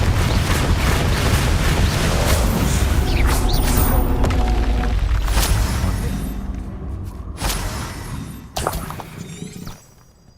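Fiery Confringo spell blast in Hogwarts Legacy combat, a loud sustained roaring burst with crackling, shattering debris that fades after several seconds, followed by a few sharp impact hits near the end.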